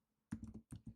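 Keys clacking on a computer keyboard while a sudo command is entered at a server terminal, two quick close bursts of clicks separated by a short pause, clear and alone.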